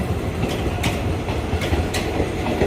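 An Alsthom 4150 diesel locomotive rolls past a level crossing, its wheels sounding a repeating clickety-clack as the cars go by. A steady, loud rail rumble runs underneath throughout.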